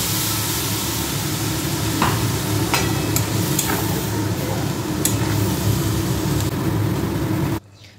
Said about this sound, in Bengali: শাকটা ভাজা ভাজা হয়ে গেছে, এবার এর মধ্যে দিয়ে দেবো সর্ষে পোস্ত আর জিরের গুঁড়োর তেল